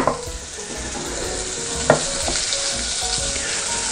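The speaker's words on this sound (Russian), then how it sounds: "Наша задача поджарить эти овощи, да, так, чтобы они раскрылись, чтобы они получили немного цвета" Vegetables for homemade tomato ketchup sizzle loudly in a hot pan, a continuous close crackle with a few sharp stirring clinks of a utensil.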